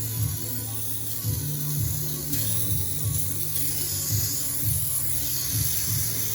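EasyOff oven cleaner sprayed onto the side of a pan, a continuous close hiss lasting several seconds with a steady background hum.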